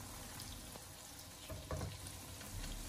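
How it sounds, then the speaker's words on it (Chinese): Tofu pieces pan-frying slowly over low heat in a pot that is swirled around, giving a soft, steady sizzle with faint stirring and clinking; no talk. "我们不停的转动锅子，让豆腐的底下小火慢煎至金黄色"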